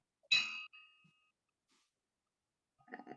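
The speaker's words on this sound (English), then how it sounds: "I'll be happy to ring a bell for the person" A small bell is rung once at a Rotary Club meeting, giving a bright ding that rings out for under a second before fading, followed by a short pause and then a brief murmur of a voice.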